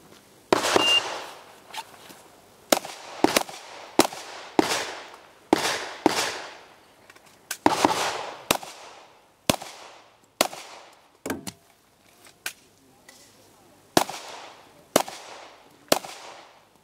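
Single pistol shots at a shooting competition, roughly fifteen sharp loud cracks fired one at a time at uneven intervals, each ringing briefly before fading into quiet.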